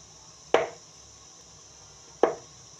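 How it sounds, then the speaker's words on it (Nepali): A knife chops through half-soaked, softened chhurpi hard cheese with two sharp, close chops about a second and a half apart, each ending quickly, against a quiet background. "आधा भिजेपछि चाहिँ सट्टै यसरी काट्नुहोस्।"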